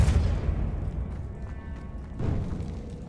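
A booming magical blast from the Depulso spell in Hogwarts Legacy, a heavy low thud followed by a second burst a couple of seconds later over rumbling game ambience.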